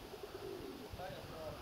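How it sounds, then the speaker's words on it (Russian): Pigeons coo softly in a shaded spot, low throaty calls repeating over a steady outdoor background hum. "Вот я зашел маленько в тенечек посмотреть на голубей."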